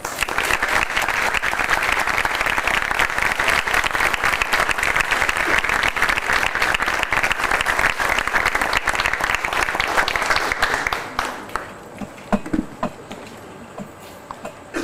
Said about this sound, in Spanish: le damos nuevamente la bienvenida con un soberano aplauso